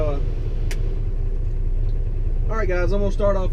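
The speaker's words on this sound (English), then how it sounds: "But for the sake of the video, I'll start off in low gear." A truck with a 13-speed gearbox rumbles steadily in low gear as it starts off, a close, continuous low engine drone, with someone talking over it near the end.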